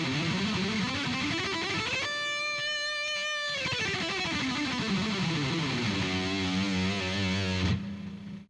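Electric guitar runs a scale exercise up and down in groups of six notes, slightly overdriven, with a bend-like rise, a sustained ringing note, then a descending run ending on held low notes; moderately quiet and alone.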